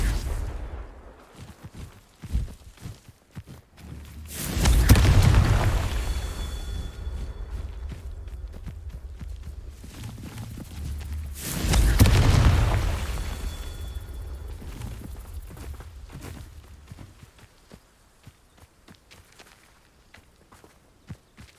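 Two booming Confringo fire-curse blasts in Hogwarts Legacy, each a loud, full rumble swelling and fading over a couple of seconds, separated by a quieter stretch with light footstep-like taps.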